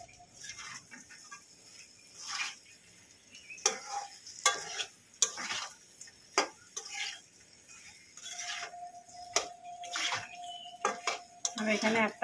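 A spoon scrapes and clatters in a pan while fried pointed gourd is stirred with spices and egg, with intermittent metallic knocks, soft sizzling and a brief tonal hum, close and moderately quiet.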